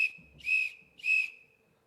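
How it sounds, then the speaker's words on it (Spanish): An emergency whistle sounds in an auditorium: three sharp, clear blasts in quick succession, close and piercing against a quiet room, with no talking. "Van a escuchar un silbato"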